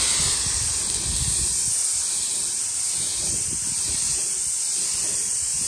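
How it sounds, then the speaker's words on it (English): An airless paint sprayer sends paint onto doors with a loud, steady, unbroken hiss that stays level the whole time. "I'm going to start off of the doors so I don't spit onto the doors with my sprayer."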